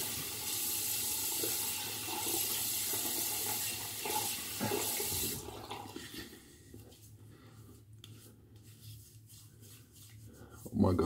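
Running water rinses a blade during soap cutting, a steady broad splashing stream for about five seconds that then cuts off, leaving quieter handling noises and a brief clatter at the end.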